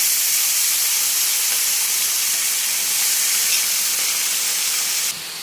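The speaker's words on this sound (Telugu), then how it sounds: "సో ఇప్పుడైతే మనం వంకాయలు కూడా వేసేసుకుంటున్నాము." Brinjal pieces fry with onions and green chillies in dry fish oil, a steady loud hiss of sizzling oil running throughout before dropping slightly at the end.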